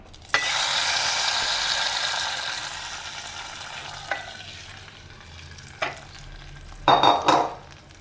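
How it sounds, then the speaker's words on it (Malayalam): Hot tempering oil poured into a lentil and tomato curry bursts into a loud sizzle that slowly fades, followed by a few clinks and scrapes of stirring near the end. "ഇനി നമുക്ക് കാച്ചിയത് കറിയിലേക്ക് ഒഴിച്ച് കൊടുക്കാം."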